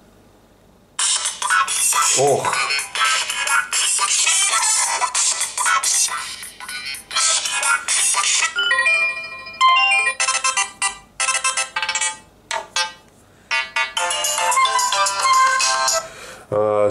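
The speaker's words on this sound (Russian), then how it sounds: "Классный звук, громкий, динамик выдерживает на максимум звука" A ringtone plays loudly at maximum volume through the speaker of an Oukitel K4000 smartphone, a bright continuous melody with a few short gaps, close to the mic, with one brief exclamation from a person.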